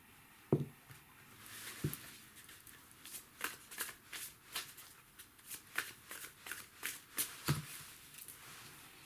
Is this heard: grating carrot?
no